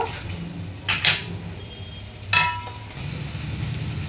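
Chicken wings sautéing in a pan, with a soft background hum broken by two short clattering bursts of utensil against metal, close by.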